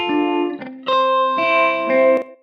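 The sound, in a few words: slapback echo delay effect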